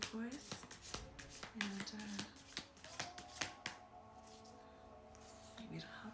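Reading cards being shuffled up close, a run of crisp riffling flicks and snaps in quick bursts, under a soft talking voice.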